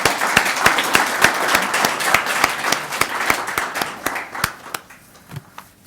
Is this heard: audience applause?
yes